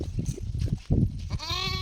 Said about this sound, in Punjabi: ਆ ਬੈਠਾ ਸਾਡਾ ਬੱਕਰਾ ਇੱਕ